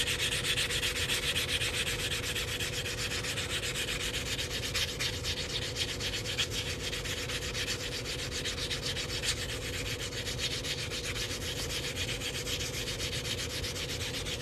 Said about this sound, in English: I'm sanding this cut edge, making sure it's nice and smooth.